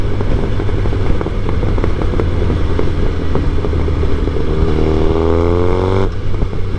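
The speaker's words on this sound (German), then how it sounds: "Die Fehlzündungen, Mann." A Suzuki GSX-R 1000 sport motorcycle engine rumbles loudly up close and revs under load at low rpm. Its pitch climbs in a rising whine, broken by sharp popping backfires.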